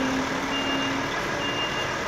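A new-cab Volvo FH 500 truck reversing sounds a steady series of high reversing beeps over a constant low engine rumble, close by and with no talking.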